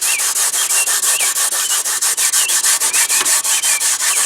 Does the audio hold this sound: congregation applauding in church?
no